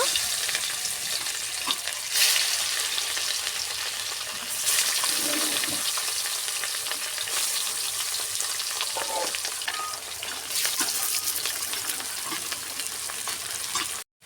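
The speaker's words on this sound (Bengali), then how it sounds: "তেল গরম হয়ে গেছে, মাছগুলো দিয়ে দেব" Tilapia fillets rubbed with turmeric and salt sizzle in hot oil in a village kitchen, a continuous loud crackling fry with a few clatters and stirring bumps throughout.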